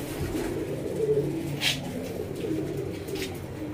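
Pigeons coo softly in a wooden coop, low murmuring calls repeating close by over a faint steady background.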